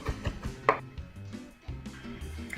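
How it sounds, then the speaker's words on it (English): Knife chopping fresh cilantro on a cutting board, a few quick close taps between pauses, with clicks and low clattering around them. "Now I'm going to chop up some fresh cilantro."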